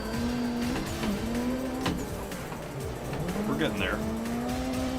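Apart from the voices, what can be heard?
drifting car tires squealing in video game Assetto Corsa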